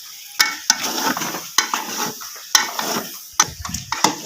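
Carrot halwa being stirred and roasted in a pan, with sharp spoon knocks and scrapes against the metal at an irregular pace over a low sizzle, close and fairly loud.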